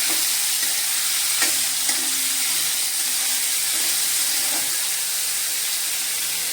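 Bombay duck (bombil) fish sautéing in hot oil, giving a steady, close sizzling hiss throughout with a few soft scrapes of stirring.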